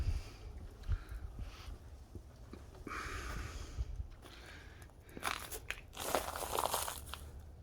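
Crunching footsteps on thick ice after an ice storm in Moore, Oklahoma, irregular crackling steps close by, growing louder and brighter toward the end.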